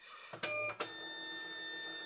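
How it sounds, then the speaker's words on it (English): A small printer whirs briefly with a couple of mechanical clunks, then hums steadily as it feeds out, close and fairly quiet. "I'm just going to go ahead and print that uh, to my label printer"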